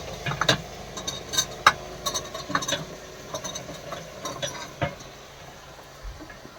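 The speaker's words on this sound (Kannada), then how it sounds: "ತರಕಾರಿ ಹಾಕಿ ನೀರೆಲ್ಲ ಕ್ಲೀನಾಗಿ ಕಲಸಿ ಎಣ್ಣೆಯಲ್ಲಿ ಎಲ್ಲ ಮಿಕ್ಸ್ ಆಗಲಿ" Vegetables including potato, eggplant and radish being stirred into oil with roasted tomato in a pot, giving a run of irregular scraping and clinking knocks of the spoon against the pot, close and moderately loud, with no talking.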